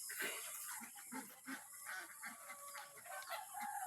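Farm chickens clucking and crowing nearby, a busy overlapping flock with repeated calls and short bursts of squawking, fairly quiet overall.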